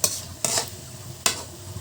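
Tengra fish sautéing in a pan, stirred in three quick scraping strokes over a low, steady sizzle, close and fairly loud with no voices.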